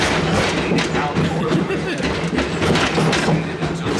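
The Wildlife Express train at Disney's Animal Kingdom rumbles along on a bumpy ride, a loud, constant clatter and rattle of the rail car with thumps and jolts, and a voice speaks over it.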